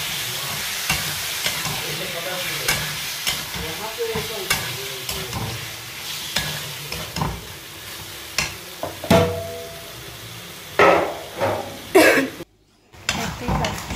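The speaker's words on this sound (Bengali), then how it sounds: "লোটে মাছগুলোকে মশলাটার সাথে খুব ভালো করে কষিয়ে নেব।" Bombay duck (lote fish) sautéing with spices in a pan, a steady sizzle under repeated scraping stirs and clatter, fairly close and loud, with a cough and brief vocal sounds near the end.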